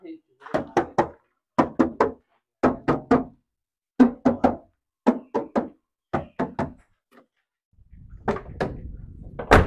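Doors of a black 2000 Isuzu Panther LS are shut over and over at a showroom, giving solid, close thuds that come in quick clusters of two or three, with short pauses between rounds and faint noise at the end.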